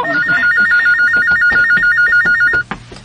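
A telephone rings loudly and close with a rapid warbling trill that repeats for over two seconds, then stops abruptly as the handset is picked up with a clatter.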